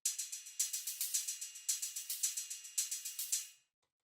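Two programmed hi-hat patterns from a beat remake play together, one panned left and one slightly right, giving a dense, bright, steadily ticking rhythm with accented groups before stopping abruptly.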